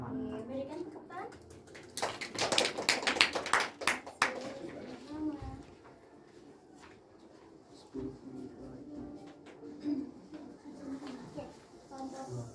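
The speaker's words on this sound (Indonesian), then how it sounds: "Oke, berikan tepuk tangan." Classroom students clap together in a short burst of applause for a presenting group, framed by a teacher talking and children's voices before and after.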